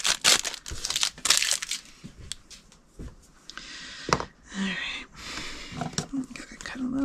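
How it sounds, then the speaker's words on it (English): Scissors snip through a plastic test tube's top and tape, giving sharp crunching cuts and crinkling between stretches of talking. "I'm going to take some scissors and I'm going to cut off that top with the lip and tape that we don't want."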